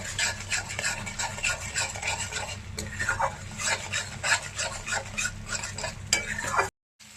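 Spices with salt and jaggery stirred and fried in a pan, giving a steady close scraping and stirring rhythm over a low sizzle for several seconds, then a brief drop to silence near the end.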